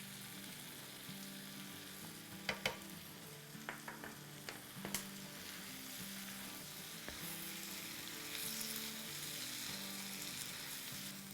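Tomato puree frying in vegetable korma masala, a quiet steady sizzle with a few scattered clicks of a spoon against the pan early on, then a slightly stronger sizzle toward the end.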